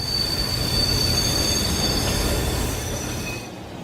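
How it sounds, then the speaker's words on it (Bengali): A train pulls into Dover Town station and comes to a stop, its wheels squealing in a loud, sustained high whine over a heavy rolling rumble that eases off near the end. "ঠিক তখনই ট্রেন ডোভার টাউনে এসে থামল"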